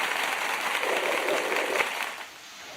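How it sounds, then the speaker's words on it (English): Audience applause, a steady broadband wash of many hands clapping that holds for about two seconds before fading to a quieter tail. "So let's give Claire the clap"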